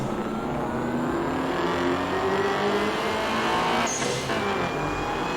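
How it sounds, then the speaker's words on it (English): A fast car engine revs and accelerates steadily in a street racing game, a loud continuous drone that climbs in pitch throughout with no voices. "This car's pretty fast."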